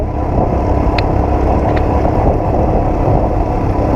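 A motorcycle rides off-road in Ladakh, its engine a steady, loud drone heavily mixed with wind rush on the microphone, with no clear gear changes.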